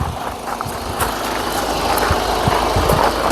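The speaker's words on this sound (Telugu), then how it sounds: "ఇంజన్ యొక్క నాయిస్ పర్ఫెక్ట్గా అయితే ఉందండి" A 2015 Ford Ecosport Titanium engine idles with the bonnet open, giving a steady, even mechanical hum close by with faint ticking on top and no speech.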